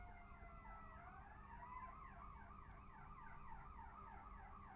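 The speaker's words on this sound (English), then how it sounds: "You guys hear the sirens?" Wailing emergency vehicle sirens sound outdoors, several overlapping sweeping tones rising and falling steadily over a low background rumble, fairly distant and continuous throughout.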